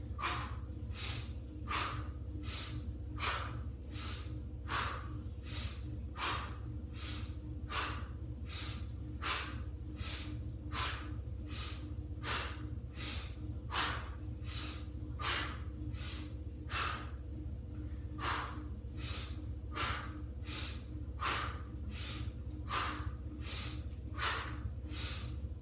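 Heavy, steady rhythmic breathing during a workout, sharp forceful exhales about once a second, close up over a constant low background hum, continuing without a break.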